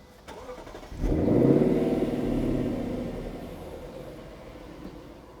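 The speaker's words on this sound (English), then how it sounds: "Let me just start the car." A 2021 Lexus LC500 Convertible engine starting: a sharp crank, then a loud surge into a deep V8 rev that settles to a steady rumbling idle, heard from inside the cabin with no talking.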